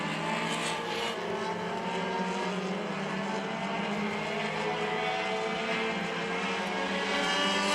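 Race cars circle Hudson Speedway during a qualifier, with car number 16 leading. Their engines make a continuous droning roar that stays fairly close and loud, shifting slightly in pitch as the cars pass.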